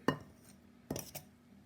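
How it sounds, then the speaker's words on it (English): Two butter knives cut cold butter into scone flour in a bowl, giving three short, faint clinks and scrapes of metal, one near the start and two close together about a second later, with no talking. "you can take 2 butter knives and you can use them like this to cut the butter in"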